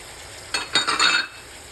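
Chopped peppers, celery and garlic are stirred in a pot for a beef stew, a short burst of scraping and clinking over a low frying sizzle.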